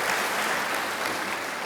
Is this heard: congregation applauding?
yes